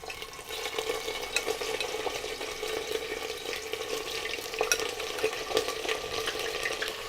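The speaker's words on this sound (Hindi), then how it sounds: "देखिए तेल ने कलर अपना बदल लिया है और अच्छे से ये हीट भी हो चुका है। इसमें सबसे पहले हमें ऐड करना होगा चिकन।" Chicken fries in hot oil with a continuous bright sizzle and crackle, full and close, with occasional pops and stirring clatters and no talk.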